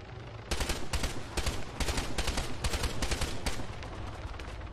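Rapid bursts of rifle fire in Arma 3 aimed at a lightly armoured Hummingbird helicopter landing close by, with roughly a dozen sharp shots cracking out in quick, uneven succession at moderate loudness and no talk.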